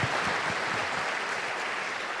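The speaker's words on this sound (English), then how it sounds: "So if you wouldn't mind joining me in a round of applause for our leaders." Audience applause at a White House forum, a dense continuous wash of many hands clapping, loud and steady throughout with no distinct gaps.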